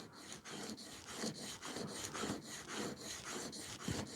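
A hand plane blade from an old wooden plane is rubbed back and forth on the 1200 grit side of a sharpening stone, giving a quiet, rhythmic rasping of about ten even strokes with no talk.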